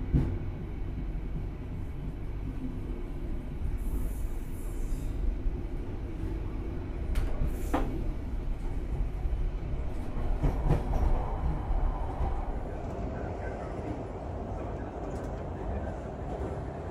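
Kutojaya Selatan holiday extra train running fast on a single-track line between Kroya and Banjar, heard from inside: a steady loud rumble of wheels and carriage with rhythmic clatter throughout, swelling slightly midway.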